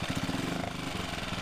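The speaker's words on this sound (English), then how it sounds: "it'll idle all the way down to the bottom" A 2010 Yamaha 6hp F6 outboard motor idles with a steady, fast, rhythmic chugging putter, close and fairly loud with no talk over it.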